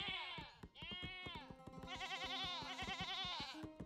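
Goats bleat in the strategy game 0 A.D., several wavering calls overlapping close together above a steady tapping background, fairly quiet overall.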